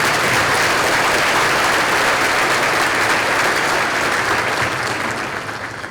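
A school district keynote audience applauds its campus staff with loud, dense, sustained clapping from a large crowd that fades slightly toward the end.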